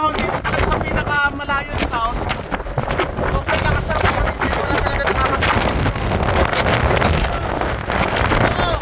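Strong wind buffets the microphone with a constant loud roar, while a voice speaks over it.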